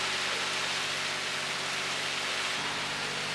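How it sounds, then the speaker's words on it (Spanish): Rain falls on a sailboat leaving Panama, a dense, even patter and hiss that holds steady throughout, with no speech. "Y con esta lluvia nos despedimos de Panamá"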